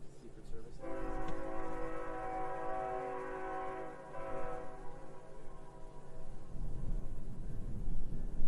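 A train of three locomotives and two cars rolls past in North Dakota, its horn blaring one long, steady chord with a brief dip midway, then fading out as low rumble and rail noise continue underneath.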